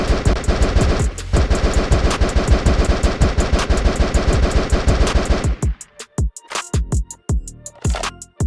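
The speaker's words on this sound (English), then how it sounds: "The M249 carries a 100-round magazine, giving you plenty of sustained fire" An M249 machine gun in the video game Justice fires a long, loud, sustained automatic burst of rapid shots at close range, then breaks into a few shorter bursts and single shots near the end.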